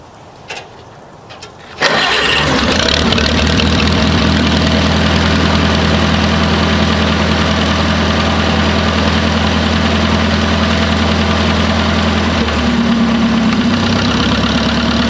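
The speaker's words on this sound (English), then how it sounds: "we'll get the tractor started here and see if we can pull it out" A heavy tractor engine cranks briefly, then catches and settles into a steady, loud idle that rumbles on without letup.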